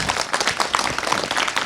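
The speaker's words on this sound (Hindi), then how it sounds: "जोरदार तालियां पहले तो।" A school audience on Children's Day claps loudly for teachers, a fairly close burst of brisk, overlapping hand claps with uneven peaks, lively and continuous throughout.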